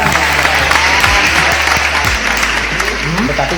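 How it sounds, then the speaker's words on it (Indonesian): Quick, close clapping from a small group in a podcast studio fills a few seconds, with a low hum underneath. "Tepuk tangan."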